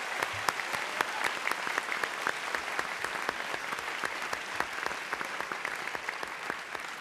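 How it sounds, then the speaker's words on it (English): An audience applauds at a national high school science bowl championship, with steady dense clapping that carries on for several seconds, crisp and evenly sustained and heard alone. "Let's give them a round of applause."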